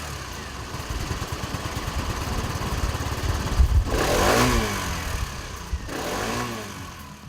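A Kymco K-xct 125i scooter with a bulky but quiet exhaust rides along, engine purring low and steady, then two louder passing swells like revving or nearby traffic, no talk heard.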